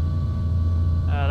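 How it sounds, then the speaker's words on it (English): A Cobra helicopter engine in a flight simulator game gives a steady, loud low-pitched drone with a thin constant whine above it. A fluttering higher tone rises near the end. "that is the helicopter that I got, the Cobra"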